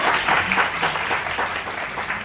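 Clapping from an audience at a student club orientation session, a dense steady burst of applause filling the room for a couple of seconds, fairly loud and close, with no voices over it.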